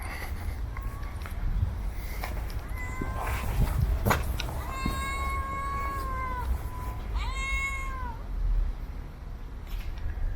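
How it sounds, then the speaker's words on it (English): An Armenian street cat meows several times in a row, its drawn-out, rising cries fairly close over steady outdoor background noise and occasional footsteps. "I've spotted my first Armenian cat."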